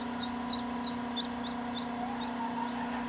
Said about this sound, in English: So as you can tell, we hatched the chickens.